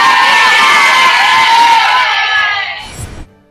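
Loud, dense cheering and shouting from a crowd of students at a school, a steady roar that stays strong for most of the stretch before quickly dropping away near the end.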